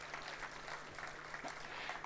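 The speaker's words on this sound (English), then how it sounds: "let's once again please give each of our speakers a round of applause" At an awards gala, the audience gives the speakers a round of applause: a soft, distant wash of crowd clapping that holds steady throughout with a faint low hum underneath.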